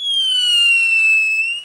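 A single shrill TNT firework whistle screams steadily for over a second, its pitch gliding slightly downward before fading.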